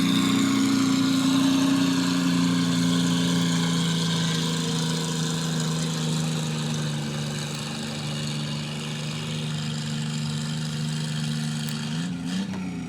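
A modified tractor engine roars steadily at a barnyard tractor pull at the 2018 Georgetown Fair, holding a loud, sustained low drone with a strong harmonic hum, dipping slightly near the end.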